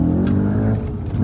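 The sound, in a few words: Audi RS4 B7 manual engine accelerating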